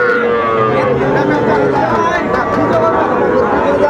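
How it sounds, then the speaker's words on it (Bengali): Sahiwal bull calves lowing and mooing amid a noisy cattle market crowd, with constant chatter and babble around the animals close by. "শাহিওয়ালের ষাঁড় বাচ্চা শাহিওয়ালের ষাঁড় বাচ্চা"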